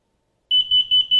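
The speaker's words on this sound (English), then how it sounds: "And now it's going to cycle through to the carbon monoxide alarm." A combination smoke and carbon monoxide detector switching to its carbon monoxide alarm: after a short silence, four loud, close, shrill beeps in an even rhythm with brief gaps between them.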